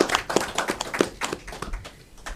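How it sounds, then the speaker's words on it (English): A small group claps for a couple of seconds, an uneven patter of hand claps that thins out toward the end. "Let's give them a round of applause."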